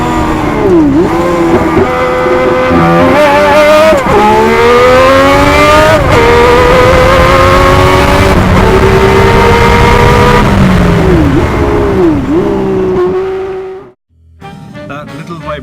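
A racing car engine roars loud and close, revving up and down through gear changes as it laps, then cuts off abruptly near the end.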